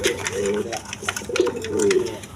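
Lakkha pigeons, a breeding pair kept for sale, coo in low repeated rolling calls close by, two longer coos standing out over other birds and background chatter.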